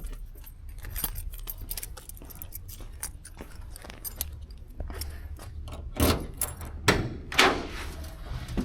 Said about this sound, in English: Let me grab the keys so we can pop the trunk.